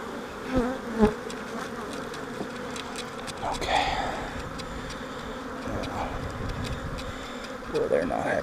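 Honeybees buzz agitated around mating nucs during a hive check, a dense close swarm drone with a few louder passes near the microphone and faint handling noises beneath.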